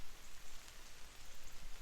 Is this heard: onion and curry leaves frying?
no